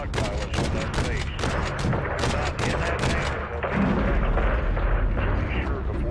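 Bombing explosions in the video game Call of Duty: Modern Warfare 3 boom in a rapid series of heavy blasts, followed by a deep, rolling rumble, with voices talking over the barrage.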